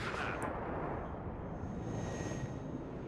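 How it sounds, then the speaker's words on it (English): Rocket artillery fires in the WARNO real-time strategy game during a night assault on a military base, a loud, sustained rumbling barrage of booms and crackle that runs continuously without letting up. "Here comes rocket artillery from the Smash."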